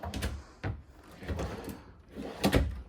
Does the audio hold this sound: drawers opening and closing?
yes